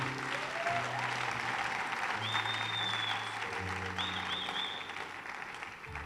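Audience applause at a church revival meeting fills the whole stretch, a dense steady clapping that stays loud and even from start to finish, with a faint voice underneath.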